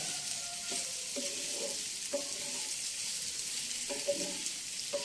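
Bitter gourd frying with ginger, garlic and onion masala, a constant hissing sizzle overlaid with repeated scraping stirs of a spatula in the pan.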